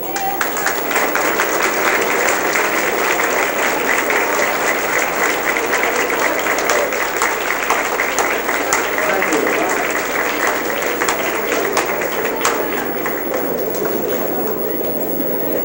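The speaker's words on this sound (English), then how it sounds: "I'd like all the staff members to get up and let everybody else applaud them on this occasion." An audience at a high school centennial luncheon applauds the staff members standing up, sustained loud clapping from a large room full of people that continues evenly throughout, with some chatter mixed in.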